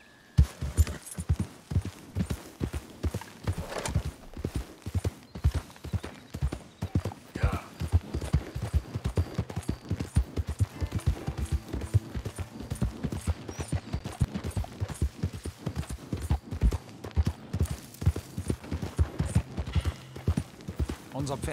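A horse's hooves clip-clop in a steady, rhythmic gait while riding in the video game Red Dead Redemption 2, continuing up close for about twenty seconds under other game sounds.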